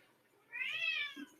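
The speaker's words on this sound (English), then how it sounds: "Sorry about the cats." A single house cat gives one drawn-out, rising-and-falling meow, fairly faint in a quiet room, with a soft rustle just after.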